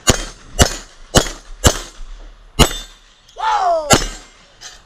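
Handgun shots ring out at a police range qualifying course, five sharp close reports at a quick even pace, then a short whistle-like tone and one more shot.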